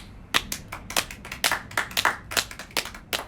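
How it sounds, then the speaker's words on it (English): Distinct hand claps from a small live studio audience, a sparse, uneven patter of a dozen or so sharp claps over about three seconds, moderately close and without talk. "Our studio audience, I want to give a round of applause to them."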